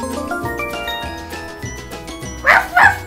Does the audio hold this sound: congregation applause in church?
no